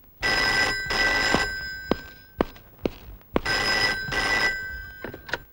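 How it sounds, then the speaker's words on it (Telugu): An old-style telephone bell rings in two long double bursts, loud and close, separated by a gap with a few sharp thumps and knocks. "అర నిమిషంలో ఆ ఫోన్ మోగుద్ది."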